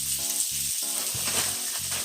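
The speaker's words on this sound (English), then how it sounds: "And we're just going to saute that." Cauliflower sautéing in ghee in a pan gives off a steady, close sizzle that runs the whole time beneath louder background music.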